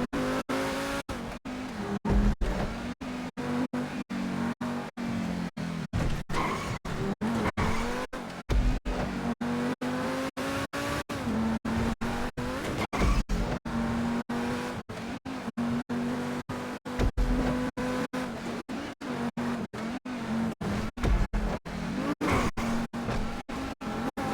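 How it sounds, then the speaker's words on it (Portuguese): A T20 sports car races in GTA V, its engine roaring loudly and continuously with revving shifts, tire squeals and skids across a long stretch. "Meu carro não tem pra ninguém, esse T20 mil é rápido."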